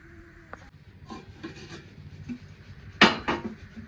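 A plate is set as a lid over a pot of moringa drumsticks on the boil, with soft rubbing and scraping, then a sharp metallic clatter near the end.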